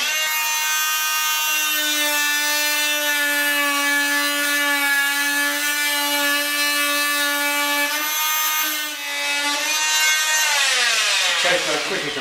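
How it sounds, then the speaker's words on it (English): Fein MultiMaster oscillating tool fitted with a standard wood blade cutting a plain piece of timber: a loud, close, steady high-pitched buzzing whine that holds for about ten seconds, then winds down as the tool stops. "I'll just quickly pop one of the standard wood blades onto the machine. Okay, and just do a quick cut just onto a plain piece of timber."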